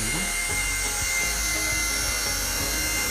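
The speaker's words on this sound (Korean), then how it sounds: "45도 호버링이라고 하죠" Close and constant, a small RC helicopter hovers angled at 45 degrees, its high motor whine layered over a buzzing rotor drone with slight fluctuations.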